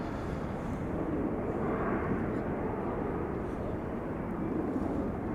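A 19-year-old airplane, first flown in June 2004, passes by at Schiphol Airport, its engine roar a steady, loud broadband rumble that swells slightly and holds throughout, with wind buffeting and faint voices underneath.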